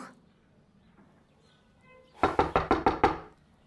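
Six sharp knocks on a wooden door come in a quick, even burst after a quiet stretch, close and loud, with no talking.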